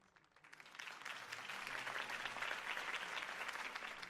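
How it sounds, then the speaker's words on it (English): Crowd applause at a political campaign rally in the Batman Telltale Series video game. Steady dense clapping swells after a quiet start and holds at a moderate distance throughout. "If only Mr. Wayne, my campaign's largest backer, could have heard that applause"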